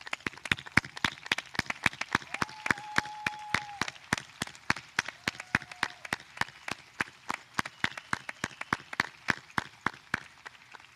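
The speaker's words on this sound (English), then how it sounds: "give these kids a real, sincere round of applause for what they've accomplished" A graduation audience claps for the graduating students, a steady run of sharp, evenly spaced claps that stays fairly close and continues throughout with no voices.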